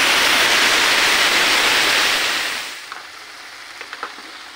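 Tomato paste frying in a pan with cardamom and ginger for a paneer vegetable curry, a loud, dense sizzle that fades after a few seconds into a quieter hiss with a few faint pops.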